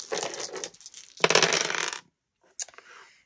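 Five dice clatter and roll on a hard surface during a dice game, two loud rattling bursts followed by a short, quieter clack as they settle.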